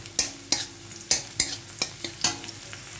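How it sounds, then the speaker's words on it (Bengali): Onions fry in a pan for a chicken cheese ball recipe, with a steady sizzle under a series of sharp scraping stirs about every half second. No one speaks. "পেঁয়াজটা ভেজে নেব"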